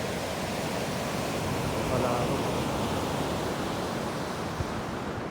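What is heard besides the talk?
large ocean waves and strong wind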